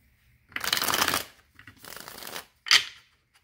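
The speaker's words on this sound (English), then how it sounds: "I'm going to shuffle." A tarot deck being shuffled by hand, three distinct riffling bursts with short pauses between them, close and fairly quiet, ending in a sharp snap.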